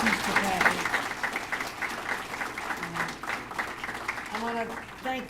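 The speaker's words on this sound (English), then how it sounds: "So let's give another round of applause to our president, Satish Tripathi." An audience at a New York governor's environmental bond event in Buffalo applauds in a sustained, moderately loud wash of clapping while a speaker's amplified voice continues over it.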